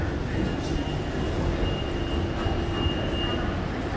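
A Bangkok BTS Green Line Skytrain rumbles along, a steady loud low roar of wheels and motors with a faint high whine, continuous throughout.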